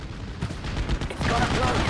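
Gunfire crackles in the WWII strategy game Steel Division Normandy 44, a brief burst of muffled, overlapping shots and low thumps.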